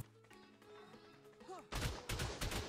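Heavy turrets fire in the ARK survival game at a lava golem, a sudden burst of loud, rapid booming shots that breaks in after a quieter stretch of game sounds and keeps pounding to the end.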